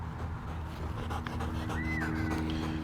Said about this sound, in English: Listen to how you're panting, dude.